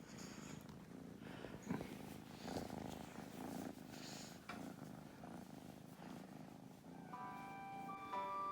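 Kitty, a pet cat, purrs steadily at close range, a low rhythmic rumble that keeps going the whole time, with a faint high tone near the end.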